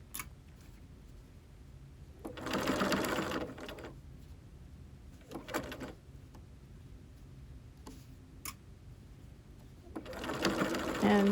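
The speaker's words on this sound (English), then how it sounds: "I usually backstitch at this point when I begin, and then also when I get to the end of the mask" A home sewing machine backstitches fabric mask ties in three short bursts of rapid mechanical stitching, separated by quiet pauses with faint handling clicks.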